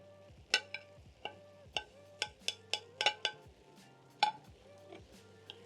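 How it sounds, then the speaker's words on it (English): Scrambled eggs go back into a pan to cook garlic butter eggs. A spatula repeatedly clinks and scrapes against the pan in irregular strokes, and a faint sizzle runs underneath. The sounds are quiet and close. "you're going to add back your scrambled eggs into the pan"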